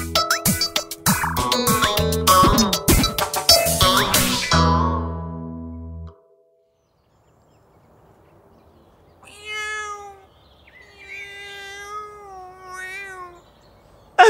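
A loud, dense burst of music cuts off into silence, then a cat meows several times in drawn-out, wavering calls, close and clear.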